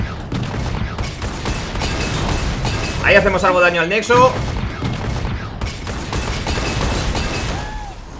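Rapid video game gunfire and bursts from a Legends of Runeterra match with a Gangplank and Sejuani deck, a dense barrage around the middle under continuous excited talk and game effects.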